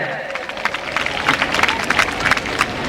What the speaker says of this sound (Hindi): हमारे जोरदार तालियों के साथ उनका स्वागत किया जाए